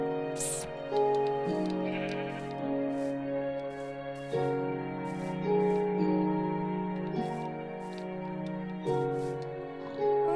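A video-game sheep in a blocky survival world bleats over and over in a steady series of wavering, nasal cries, clear and close, for about ten seconds with no voices.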